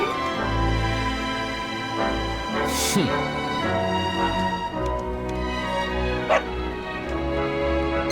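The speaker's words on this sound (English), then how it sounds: "Ah! No! No! Not the dog! Anything but that!" A dog in the Dragon Quest XI video game barks repeatedly with yips and whimpers, loud and close, over game music without anyone speaking.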